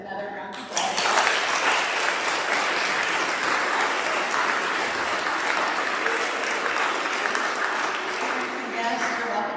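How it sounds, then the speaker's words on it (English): Loud, sustained applause from a large crowd after eighth grade speeches, starting abruptly and continuing steadily throughout with dense clapping. "Can you give them another round of applause?"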